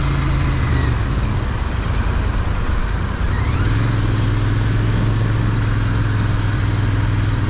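A Royal Enfield Interceptor 650, a classic-style motorcycle, accelerates with a steady, loud engine drone that holds low and constant, its pitch shifting slightly partway through as it pulls away on a ride, with no voices.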